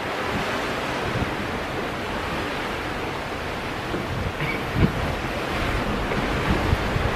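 Ocean waves at night seen from a Carnival cruise ship: a loud, constant rushing wash of sea and wind buffeting the microphone, with a few small bumps late on and no talk.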